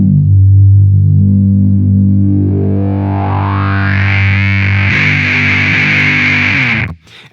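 An electric guitar through a Mastro Valvola OFF1 octave fuzz filter pedal, worked with the cutoff knob: a thick, buzzing fuzz tone whose filter sweeps steadily upward into a bright, whooshy hiss before cutting off abruptly.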